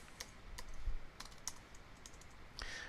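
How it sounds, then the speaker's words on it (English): Computer keyboard keys being pressed, mostly the up arrow, in a series of sharp, irregular clicks and taps at close range with no speech. "I'm just using my up arrow keys to recall those commands."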